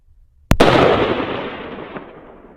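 A single sharp rifle shot cracks out during an outdoor elk hunt near a ridge, followed by a long rolling echo that fades over about two seconds.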